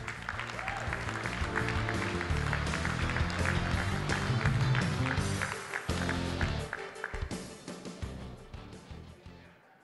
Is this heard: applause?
yes